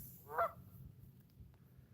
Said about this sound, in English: Some geese out there making some noise right in front of us